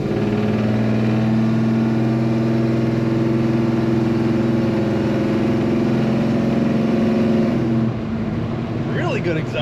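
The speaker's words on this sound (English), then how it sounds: "Really good exhaust note coming out of this truck." A 1970 Chevrolet C10 pickup truck idles with a deep, steady exhaust rumble through an aftermarket exhaust, close and continuous, with a brief bit of speech near the end.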